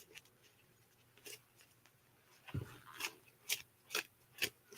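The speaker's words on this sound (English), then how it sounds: "I'm shuffling." Tarot cards being shuffled by hand, a series of short crisp riffling and flicking bursts that grow more regular and distinct toward the end, close and fairly quiet with no talk.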